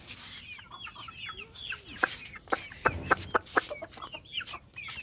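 Chickens cluck and squabble while being fed flour, a busy cluster of short clucks and a few sharper calls, fairly close and moderately loud.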